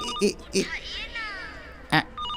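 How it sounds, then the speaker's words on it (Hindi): A mobile phone alarm tone chimes in short, repeating electronic bursts, fairly close and clear, separated by gaps where people speak. "ये रिंगटोन नहीं है आंटी, अलार्म है।"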